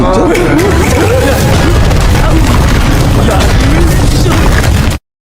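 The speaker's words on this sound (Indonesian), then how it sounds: "pertarungan mereka menyebabkan ledakan" A loud, rumbling explosion roars continuously, with excited voices shouting over the blast before it cuts off abruptly.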